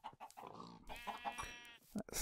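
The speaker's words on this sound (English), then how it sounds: "They make this sort of breathy sound." Sheep in a Minecraft-style video game give a short breathy bleat amid other animal noises, with someone talking over much of it.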